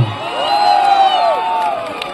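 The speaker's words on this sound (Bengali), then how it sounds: "জোরে হাততালি হোক একবার।" Fans at a live public event for actor Jeet cheering and whooping together, a loud sustained crowd roar with rising shouts throughout.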